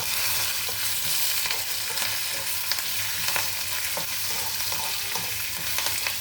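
Green chillies and curry leaves sizzle in hot oil for poha pulihora, with a constant close crackling hiss and scattered pops, and no one speaks.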